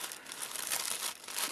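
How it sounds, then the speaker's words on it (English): Collage paper being torn by hand, a steady, close crinkling rip that runs the whole moment with slight swells and no talk over it. "And this collage paper, I'm just going to rip."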